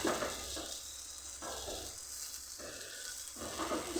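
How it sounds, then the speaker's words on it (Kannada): Food frying in a pan at home: a close, hissing sizzle that swells and eases in waves every second or so, with faint scraping in between and no speech. "ಈ ಸೈಡ್ ಇದನ್ನು ಫ್ರೈ ಮಾಡಬೇಕು"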